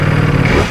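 Ducati Panigale V4 R motorcycle engine revving up close, a short, loud, rough burst of engine roar.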